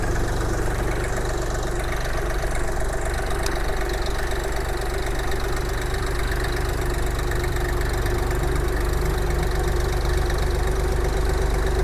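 A Forte XT-244 three-cylinder, 24-horsepower diesel mini tractor idles steadily and evenly at close range, a continuous low chugging rumble throughout with no talking.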